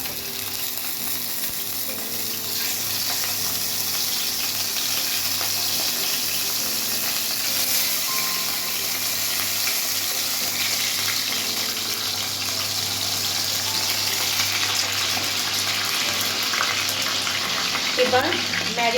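Chicken pieces for lemon chicken go one by one into hot oil, a steady loud sizzle and frying hiss that runs unbroken close by, with faint stirring clatter near the end.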